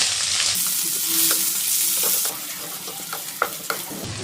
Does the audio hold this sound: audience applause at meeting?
no